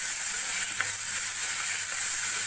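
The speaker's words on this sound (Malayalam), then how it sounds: "ഇനി നമുക്കിതിലേക്ക് തക്കാളി ആഡ് ചെയ്ത് കൊടുക്കാം. തക്കാളിയും നല്ലതുപോലെ വഴിക്കുക." Tomato, shallots and garlic sauté in a hot pan, giving a steady, even sizzle that holds at a close, constant level with only a faint stir click partway through.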